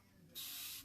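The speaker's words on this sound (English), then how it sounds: "It does spray upside down, but you gotta make sure you gotta aim to your hair." A spray bottle lets out one brief, close hiss as it sprays aloe vera juice onto hair during a twist-out refresh, after a moment of near silence.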